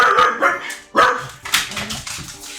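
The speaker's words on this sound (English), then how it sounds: "the neighbor's dog barked" Neighbor's dog barking nearby during a Dark Deity game session, several sharp barks and yips in uneven bursts, fairly loud and clear with no talk over them.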